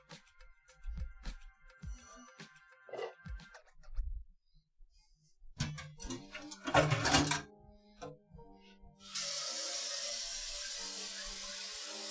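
A kitchen tap running water into a pot for cooking noodles, starting after clattering and handling noises and then pouring in a steady, loud hiss until the end.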